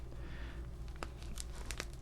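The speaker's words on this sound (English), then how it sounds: "cut through the plastic here." Small scissors cutting and poking through crinkly plastic packaging on fabric, quiet close-up crackling and crinkling with a few sharp snips and rustles, no talk.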